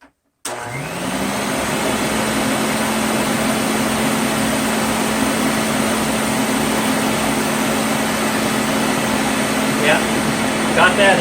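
Rainbow D4C SE vacuum cleaner switching on and running on a thick doormat, a loud, steady whine and rushing airflow that stays constant after a sudden start.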